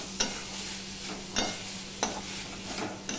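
Potatoes with sugar being stirred and fried in a pan for a vegetarian dish, a steady close sizzle broken by four sharp scraping strokes of the spatula, with no talking.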